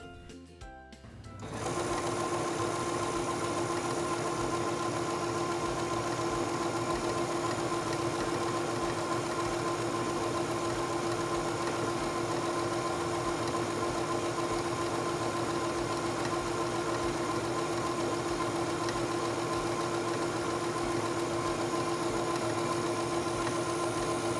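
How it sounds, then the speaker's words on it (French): A Singer Stylist 7258 sewing machine stitches fabric: after a brief quiet start it runs at a steady, even motor hum with rapid needle rhythm for over twenty seconds, close and alone. "Placez votre tissu sous le pied presseur, abaissez le pied presseur et commencez à coudre."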